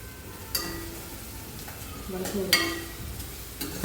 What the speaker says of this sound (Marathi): जर तो तळवू दे चांगला, असा तो खरपूस होतो कढीपत्ता